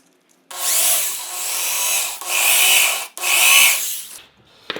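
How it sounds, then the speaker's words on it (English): A power drill bores into a toilet paper holder in three loud, whirring bursts with short pauses between them. Each burst ends with a brief stop. "so we're gonna drill it"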